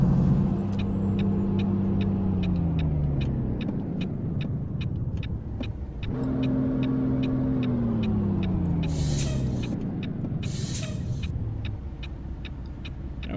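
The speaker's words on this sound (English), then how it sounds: "Shouldn't, you know, be using my Jake brake in the city" Jake brake on a truck in American Truck Simulator, driving through a city. A deep, loud engine-braking rumble falls in pitch twice, with steady ticking through the clip and brief hissing bursts near the end.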